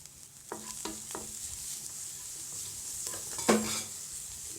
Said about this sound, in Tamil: இதையும் நல்லா வறுத்துக்கலாம் நல்லா பொன்னரமாக வறுத்துக்கலாம்